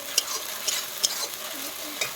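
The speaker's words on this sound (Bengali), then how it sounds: "এই মশলাটা কষানোর সাথে একটু লবণ, একটু হলুদ দিয়ে মশলাটাকে একটু কষানো" Spice paste with salt and turmeric frying in a pan for a snail curry, with a soft continuous sizzle and a few sharp scraping clicks of a spatula stirring, close and fairly quiet.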